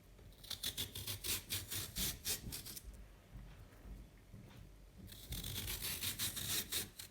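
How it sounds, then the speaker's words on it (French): A vegetable peeler shaves thin slices from a cucumber, making quick, quiet rasping strokes in two rhythmic bursts separated by a short pause, with no talking. "Vous prenez votre rasoir à légumes ou économe et vous faites des tranches"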